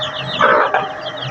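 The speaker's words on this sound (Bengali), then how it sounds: "এটা হচ্ছে আমার সে 12 দেশি মুরগির বাচ্চা।" Twelve native (deshi) chicken chicks cluck and peep close by in a short burst of overlapping calls, loud and without voices.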